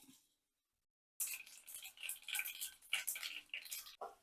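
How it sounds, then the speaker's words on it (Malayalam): Mustard and fenugreek seeds crackle and sizzle in hot oil for a pickle, a dense close-up spitting and popping that starts abruptly after a brief silence and continues steadily to the end. "ചൂടായ എണ്ണയിലേക്ക് ഒരു സ്പൂൺ കടുക് ഒരു സ്പൂൺ ഉലുവയും ഇട്ട് കൊടുക്കാം"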